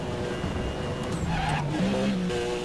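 A car in Need for Speed World braking hard, tires squealing in a rising, wavering skid over a steady engine roar, close and prominent with no talk.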